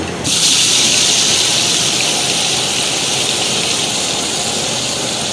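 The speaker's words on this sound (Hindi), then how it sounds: "ऑयल हमारा गर्म हो गया है। अब इसमें हम पेस्ट डालने लगे हैं प्याज का।" Onion paste hits hot oil for aloo matar, letting out a loud, steady sizzling hiss that starts abruptly and holds evenly without a break.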